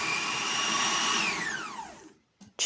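Sugar and ground almonds are being mixed into a paste with an electric mixer, which whines steadily, then winds down in pitch and cuts out. A short clatter follows the near silence.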